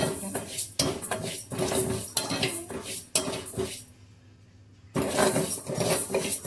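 Pongal ingredients are stirred as they fry in a pan, a repeated rhythm of loud metallic scraping and clattering strokes from a spoon against the pan, with a brief quiet pause midway.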